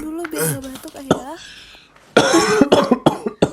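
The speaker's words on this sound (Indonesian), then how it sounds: "biar batuknya mendingan" A man coughs in several harsh, close bursts, a short pause between the first group and a louder second group, with people talking around him.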